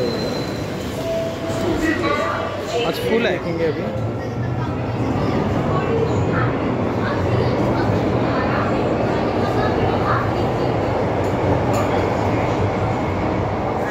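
An underground Metro Line 3 train arrives, rumbling loudly through a tunnel, a steady low roar with rattling, while people talk nearby.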